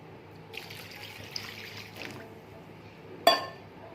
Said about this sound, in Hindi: अब मैं इसके अंदर ऐड करूँगी 2 गिलास पानी के।